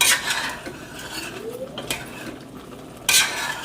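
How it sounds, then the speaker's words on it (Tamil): Chicken is tossed with rock salt in a pan, giving scraping spoon strokes, metallic clinks and a light sizzle, with a louder burst of mixing near the end. "சிக்கனுக்கு தேவையான அளவு உப்பு கல் ஆட் பண்ணுறேன் நல்லா மிக்ஸ் பண்ணி விடுவேன்"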